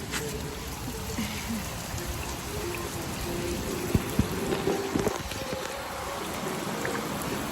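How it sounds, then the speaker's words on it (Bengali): Heavy rain pours onto an open rooftop, a dense steady hiss with scattered sharper drops and splashes close by, continuing evenly throughout. "কি দারুণ বৃষ্টি হচ্ছে, কি দারুণ বৃষ্টি হচ্ছে।"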